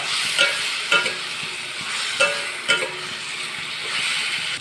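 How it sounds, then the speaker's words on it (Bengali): Potatoes stir-fried with spices in a pan for a rohu fish curry, with a gentle sizzle broken by several distinct spatula scrapes and stirring strokes, close and alone without talk. "এবার মশলার সাথে আলুগুলো একটু কষিয়ে নেব।"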